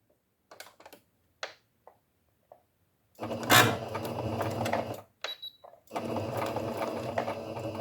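A sewing machine stitches a felt heart ornament, starting with a few isolated taps and then running in two loud, close, steady bursts of rapid stitching separated by a brief pause.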